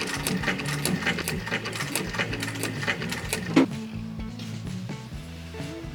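A sewing machine stitches the bottom seam of a leather bag lining, a close, steady rapid mechanical chatter running continuously, shifting to slower rhythmic clicks in the final seconds.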